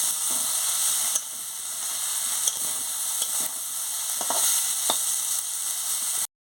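Potatoes and yardlong beans fry in an uncovered pan after steaming, giving a loud continuous hiss and sizzle with a few soft stirring scrapes, close up and steady until an abrupt cutoff, no voices.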